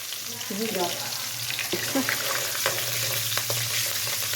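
Fenugreek seeds frying in hot oil for a tadka, a steady bright sizzle with occasional crackles and pops, a brief bit of soft voice near the start.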